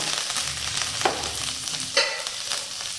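A tempering of garlic and ginger frying in hot oil, a bright, crackling sizzle with stirring scrapes and a couple of sharper spatters, close and fairly loud, with no talking.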